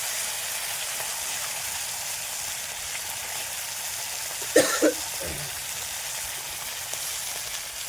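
Fish fries in hot oil with a steady, loud sizzling hiss that runs throughout, broken briefly midway by a couple of short coughs.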